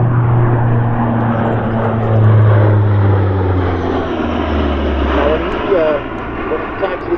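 A CP-140 Aurora turboprop patrol aircraft roars past at an airshow with a steady droning engine tone that shifts in pitch as it passes, loud and close, with voices talking over it.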